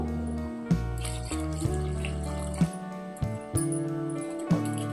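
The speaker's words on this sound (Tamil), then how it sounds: "இப்போ இந்த முருங்கைக்காய் சாம்பாருக்கு தேவையான தண்ணி சேர்த்துக்கிருவோம்" A steady stream of water pours and splashes into a metal pot for drumstick sambar, with a few clinks and knocks along the way.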